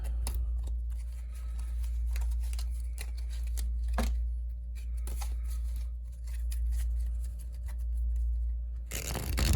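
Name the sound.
shuffling cards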